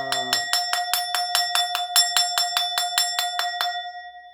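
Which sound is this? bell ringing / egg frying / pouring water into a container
bell ringing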